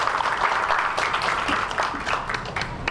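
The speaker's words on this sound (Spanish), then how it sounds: "Un aplauso, por favor." An audience at an academic session on intellectual property and patents applauds a speaker, steady moderate clapping from a roomful of people lasting a few seconds.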